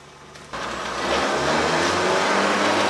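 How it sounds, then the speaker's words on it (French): A Peugeot 206 S16 engine in a Zeus sidecar motorcycle starts up and settles into a loud, steady running drone that builds slightly, heard close with no voices. "ça fait le bruit d'une voiture, mais en même temps on entend bien le moteur"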